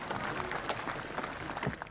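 Audience applause at a Lithuanian Army concert in Rukla, Gaižiūnai, a dense, fairly distant wash of many hands clapping with crowd noise, continuous and fairly faint.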